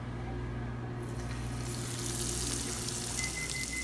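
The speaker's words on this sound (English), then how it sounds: "You see how it sizzles up as soon as you drop it?" Steady, dense hissing and crackling of fish frying in hot grease, continuous and close, with a low hum underneath.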